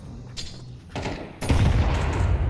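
Gunfire from a pistol and a rocket launcher in the game Counter-Strike: several loud, sharp broadband bursts that build into a dense, rumbling barrage toward the end, with no talk over them.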